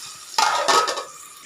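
Drumsticks tumble into a hot pan of oil for prawn curry, bursting into two loud sizzling crackles close by that fade to a soft hiss.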